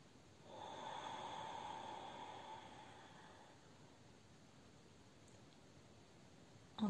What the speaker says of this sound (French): Expire en vidant tout l'air.